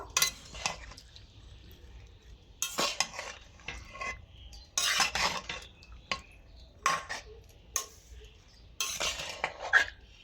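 Salt being stirred into cooked raw mango in a pot with water produces quiet, intermittent bursts of spoon scraping and clinking against metal, separated by near-silent pauses.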